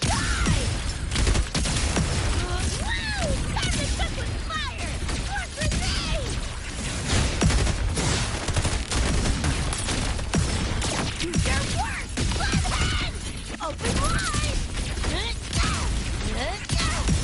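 Grenade explosions and gunfire in the video game Wuthering Waves come as a continuous chaotic barrage of bangs, thuds and impacts, loud and near, with game voices and effects mixed throughout.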